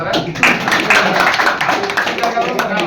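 Audience applause at a teachers' grievance meeting, a dense, steady patter of many hands clapping throughout, with voices talking over it.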